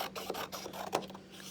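Trimming the edge off a 12 by 12 inch square of craft paper makes soft, quick scraping strokes, faint and close, in a short irregular series.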